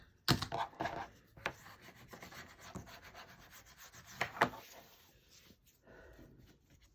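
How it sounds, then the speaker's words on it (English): Chipboard paper gets burnished down with a handful of short, close, scratchy rubbing strokes, separated by gaps and fading toward the end. "Burnish it down."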